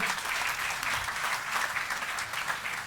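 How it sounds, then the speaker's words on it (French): Warm, steady applause from an audience at a June choir concert, a dense continuous patter of many hands clapping throughout, with no voices standing out. "Regardez, on peut l'applaudir."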